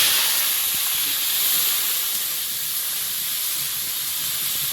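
Fish rubbed with salt and turmeric fries in hot oil in a wok, giving a loud, continuous hiss that stays close and even throughout, with no talk over it.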